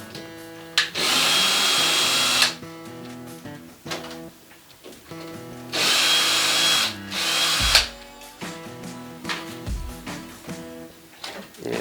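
A power drill removes the screws from an old door handle, whirring in two long sustained bursts with shorter stop-start runs between them. Handling noises fill the gaps.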